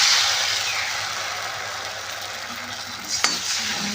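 Cornflour paste goes into a pan of browned garlic for a soya chunk manchurian, producing a broad, loud hiss of frying that eases off, followed by a single clink of a utensil against the pan.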